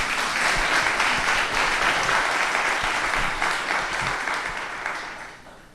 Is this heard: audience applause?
yes